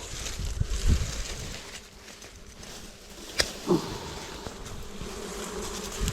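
Bees buzz steadily around a honeycomb hive as it is cut open. The close, continuous drone runs the whole time, with a few faint knocks and handling sounds mixed in.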